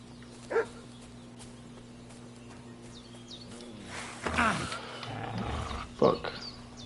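A dog in the Kingdom Come: Deliverance II video game gives a few separate barks, one early and two later, over a steady low game ambience.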